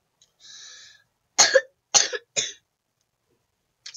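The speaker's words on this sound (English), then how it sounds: "Dude, my cough." A person coughs three times in sharp, separate bursts, close and fairly loud, after a brief faint hiss, with a small throat sound trailing at the end.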